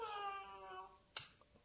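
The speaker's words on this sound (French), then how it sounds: "c'était le chat" A cat cries indoors at night with a drawn-out, wavering meow lasting most of a second, followed by a sharp knock and a couple of faint clicks in a quiet room.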